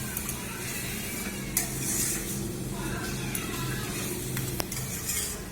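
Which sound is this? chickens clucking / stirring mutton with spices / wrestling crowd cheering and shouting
stirring mutton with spices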